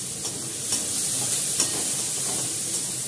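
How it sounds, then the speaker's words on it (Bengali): Vegetables with carrot and curry leaves frying in a pan for an oats dish, with a steady hissing sizzle broken by soft periodic stirring scrapes. "এটাকে ভাজা ভাজা করে তারপর গাজরটা কারি পাতাটা দেবো, দিয়ে এটাকে একসঙ্গে ভাজা করে রেখে দেবো"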